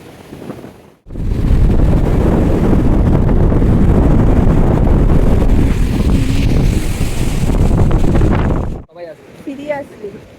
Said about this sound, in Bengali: মানে একটা চূড়ান্ত হাওয়া দিচ্ছে।